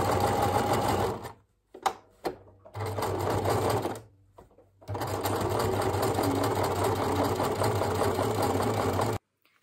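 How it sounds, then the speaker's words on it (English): A home sewing machine runs in steady bursts, stitching fabric for a Disney-themed skirt, with brief pauses between runs and a final stop before the end; the motor whir is close and loud with no talk. "I accidentally sewed on the wrong line"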